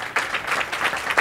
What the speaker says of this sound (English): let's have a round of applause for Stan Mayo.